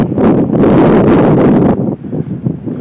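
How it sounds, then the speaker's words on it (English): Strong wind at Muncaster Castle in Cumbria buffets the microphone with loud, continuous low rumbling, easing slightly near the end into gusty rustling. "Might be too windy here"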